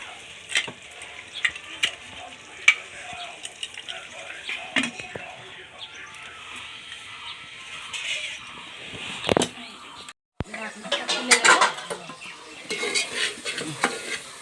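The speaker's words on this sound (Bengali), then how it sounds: "আলুটা অল্প সিজতে যাব" Potatoes fry in a pan with spices for a simple chicken curry, a steady close sizzle broken by scraping stirs and occasional clinks of a spoon against the metal, with a voice speaking at moments.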